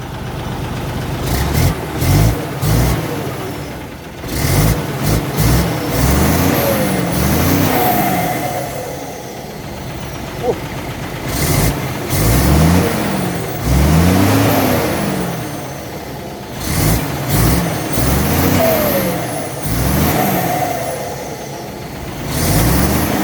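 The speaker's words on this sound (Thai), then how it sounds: "เดี๋ยวลองเหยียบคันเร่งดู" A truck with a large K13C 370 hp engine revs hard again and again, each throttle blip rising and then falling back to a rumbling idle, loud and close, with no voices.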